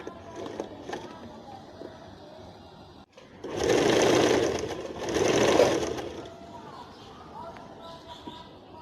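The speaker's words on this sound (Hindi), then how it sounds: "देखो यहाँ तक रुमाली तक मैंने सिलाई कर ली ऊपर तक" A sewing machine stitches a plain salwar in two loud bursts of steady whirring about a second long each, with quieter room sound and faint talk around them.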